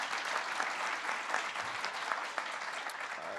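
Steady, faint applause from an audience at a presidential speech on a payroll tax cut extension, a continuous patter of many hands clapping with no talk over it.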